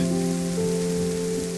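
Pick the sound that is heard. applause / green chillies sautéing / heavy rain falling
heavy rain falling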